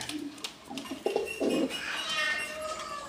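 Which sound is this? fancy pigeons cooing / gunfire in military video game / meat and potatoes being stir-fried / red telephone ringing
fancy pigeons cooing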